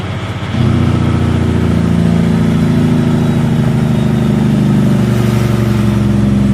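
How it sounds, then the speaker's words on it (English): Road train truck engine with the engine brake engaged, a loud, deep, steady droning rumble that kicks in sharply and holds with a slight pitch shift as revs climb from 1300 to 1500 rpm. "Let's give the engine brakes a whirl again. So 1300 up to 1500."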